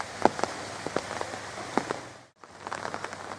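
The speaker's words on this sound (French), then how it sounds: "sous une pluie battante" Heavy rain pours steadily at the entrance of a resort hotel in Thailand, a dense hiss with scattered sharper drops and splashes. It cuts out briefly near the end before returning.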